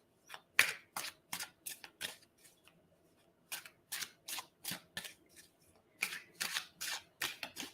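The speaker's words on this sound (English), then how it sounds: "I got to shuffle more because I messed that up." Tarot-style cards shuffled for an intuitive reading, a series of crisp riffling bursts in two groups separated by a brief pause, close and clear with no talking.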